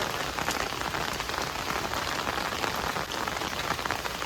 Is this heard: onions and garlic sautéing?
no